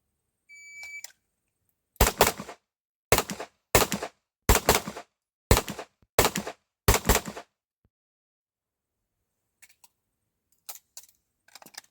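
Loud, close handgun shots ring out during IPSC Production Division training, fired as eight sharp reports in quick pairs with short gaps between them. Faint clicks and movement noises follow.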